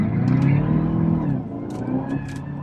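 A Cadillac CTS-V wagon's engine pulls hard out of a corner, a loud deep growl that rises and then eases, with a brief higher whine near the end.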